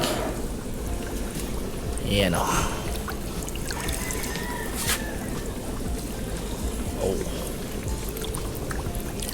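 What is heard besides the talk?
pouring refill water into guppy fry tank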